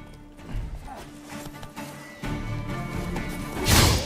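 A panicking horse in The Witcher 3, with hoof clatter, crashing impacts and a whinny-like burst near the end, busy and close amid game sound effects, with no speech over it.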